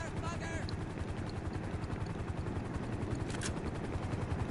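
A helicopter in Grand Theft Auto 5 Online thumps with fast, regular rotor beats throughout, with a few sharp crackling bursts like gunfire over the steady chopping.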